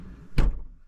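A single solid thunk as the door of a classic microcar, a Nissan Pao, is pulled shut, short and close with a low body resonance, no talk.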